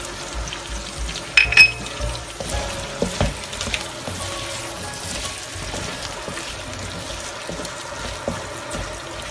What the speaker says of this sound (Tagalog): i-fry lang po natin. Sabay na din po natin ang ating maliliit na sibuyas.